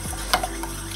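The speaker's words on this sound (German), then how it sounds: "gut rühren, damit sich die Klümpchen alle auflösen." A spoon stirs flour into canola oil in a pan, making a brief, close scrape with a light metallic clink over a faint background hiss.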